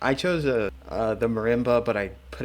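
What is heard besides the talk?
No everyday noise stands out behind the speech.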